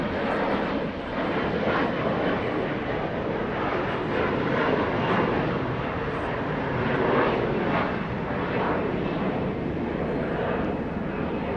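Two Airbus A380 jets depart together from LAX, producing a steady, loud, broadband roar that fills the whole stretch with no voices.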